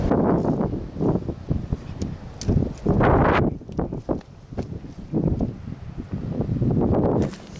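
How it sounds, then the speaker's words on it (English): Gusty wind buffets the microphone in loud, uneven rumbling bursts that rise and fall over several seconds, with no voices, in Dover, England. "It's a bit windy again, yet again."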